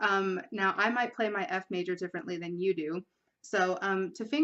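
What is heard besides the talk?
No distinct noise like a dog, phone or traffic.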